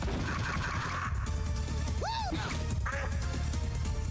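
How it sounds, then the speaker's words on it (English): Corvid enemies in Shin Megami Tensei: Persona let out a couple of nasal duck-like quacks over a busy wash of game music and effects. "Why are they making duck noises?"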